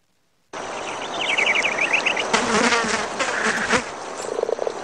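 A housefly buzzes against a frog's croaking in a CG animation of a frog battling a fly. The whining, buzzy drone runs close and steady for several seconds, with rough croak-like bursts mixed in and no talking.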